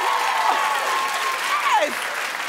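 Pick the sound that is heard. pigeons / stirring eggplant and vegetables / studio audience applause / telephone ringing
studio audience applause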